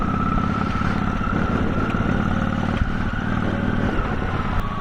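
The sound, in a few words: motorcycle riding through a small town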